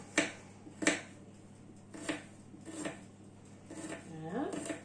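Knife slicing fish on a plate while making a fish loaf: several sharp clinks and taps of blade against plate at irregular intervals, close by, with a voice talking quietly underneath.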